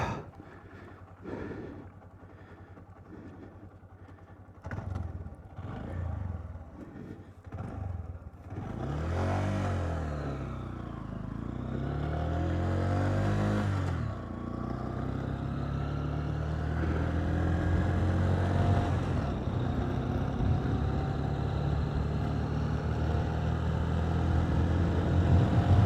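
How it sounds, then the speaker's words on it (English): A Honda CB125F motorcycle engine rises and falls through several revving, accelerating pulls while riding, loud and close, with gear changes and wind noise. "I'm not planning on riding too spirited along here today."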